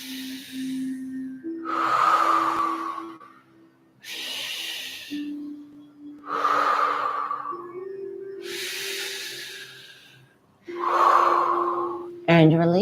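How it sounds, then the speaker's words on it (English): During a pelvic-floor and fascia stretching exercise, a person inhales through the mouth again and again: several breathy gasps come at steady intervals over a low, constant tone, close and clear. "Inhale through the mouth."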